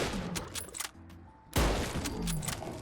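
Gunshots from a WW2 rifle mod in Fallout 4, two sharp loud reports with the second hitting hardest and ringing out, surrounded by game ambience and no talk.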